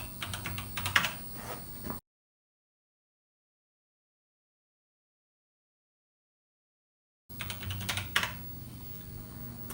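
Keys clatter on an Apple IIe keyboard as BASIC code is entered, in two short bursts of close typing separated by a long stretch of silence.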